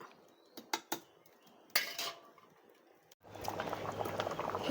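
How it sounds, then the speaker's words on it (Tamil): A few sharp clinks of utensils on a pot come first, then chopped vegetables boiling with lentils for sambar take over as a steady, close bubbling. "எல்லா காயம் அரிஞ்சு வேக போட்டாச்சு பருப்போடு"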